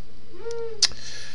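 A single electronic owl-hoot alarm clock tone sounds once, close and clear, followed by a brief click and a soft hiss.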